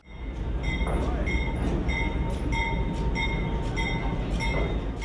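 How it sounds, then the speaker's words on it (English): A New Hope and Ivyland Railroad train rolls past with a steady heavy rumble, clattering wheels on track and faint high squeals, loud and continuous with no talking. "one way to experience history firsthand is to take a ride on the New Hope and Ivy Land Railroad"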